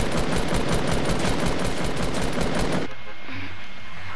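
Rapid bursts of video game gunfire crackle loud and dense for about three seconds, then cut off abruptly to a quieter background.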